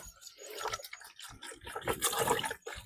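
Liquid poured into a cooking pot: quiet, close splashing and trickling in uneven bursts, with drips between, alone without talk.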